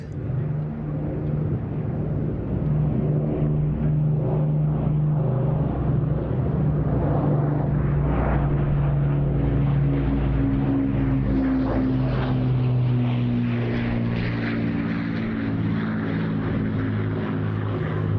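An Avro Lancaster, the four-engined wartime bomber, drones past at an airshow with a loud, sustained propeller-engine roar that swells and shifts in pitch as it passes overhead.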